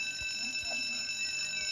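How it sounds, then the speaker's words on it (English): A burglar alarm bell in the Roblox Jailbreak video game rings continuously as a steady high metallic tone with a faint rhythmic pulse underneath, moderately loud and unbroken. "Like the bell alarm? Like the burglar alarm? It's part of the game."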